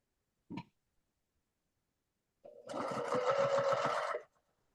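Sewing machine chain piecing solid white and solid black quilt fabric for quarter square triangles, a brief click, then a steady close whirring run of rapid stitches lasting under two seconds before stopping.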